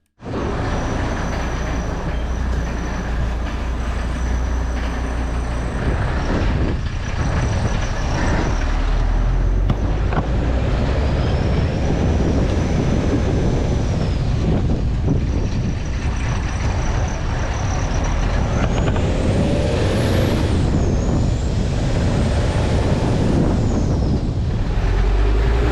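A Mercedes five-cylinder turbo truck drives on a test run with a loud, sustained engine drone and road rumble close by, with rising and falling whines and sharp air-brake hisses breaking in now and then.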